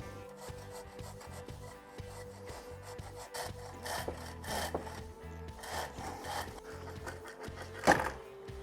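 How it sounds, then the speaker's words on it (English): Rubber e-bike grip cover on an Ariel Rider Rideal being cut, with close rhythmic rasping and sawing strokes that grow busier midway and end in a sharper scrape, fairly quiet overall. "I don't know how hard it is to cut this rubber, but we're gonna find out."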